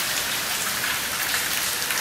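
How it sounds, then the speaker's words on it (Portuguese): Heavy rain pours steadily onto surfaces around a rainwater cistern with gutters collecting the runoff, a dense, continuous hiss with no voices. "olha pessoal, tá chovendo. Chovendo bem"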